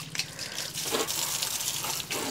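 Water poured and splashed onto a vehicle to wet it before washing, a continuous close gushing and spattering sound with slight surges, no talking.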